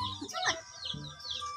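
Chickens cluck and chirp close by in a rural Filipino setting, several short overlapping calls over a steady low background hum, with no talk.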